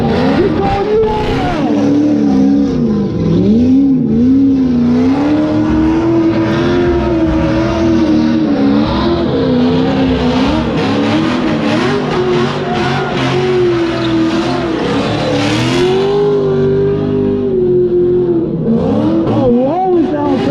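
A drift car engine revving at the SEMA Show Hoonigan demonstration in Las Vegas, a loud close rasping drone whose pitch rises and falls steadily at lower RPM, with an announcer talking over it.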